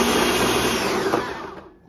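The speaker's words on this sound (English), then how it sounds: "Okay, now we would press smoothie if you have this blender." A smart blender runs on its smoothie setting, a loud steady whirring roar up close that holds level and then winds down abruptly near the end, with no talking.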